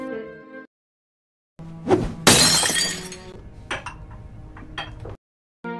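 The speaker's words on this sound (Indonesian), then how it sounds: "Ketua bahkan melempar gelas ke arah pintu" A drinking glass thrown against a door smashes loudly and bursts into shards, followed by scattered tinkling pieces landing, framed by brief quiet gaps and a short tonal sound before and after.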